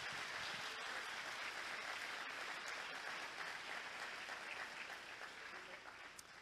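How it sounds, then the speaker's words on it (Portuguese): A church congregation at a Sunday morning celebration service claps together, a dense, sustained round of applause that gradually fades toward the end. "Então vamos dar uma salva de palmas para Jesus"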